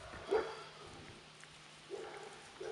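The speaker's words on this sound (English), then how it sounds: "My dogs can hear me, but they can't see me, so they're making noise." Two short dog barks, one early and one near the end, muffled and somewhat distant over a low background hum.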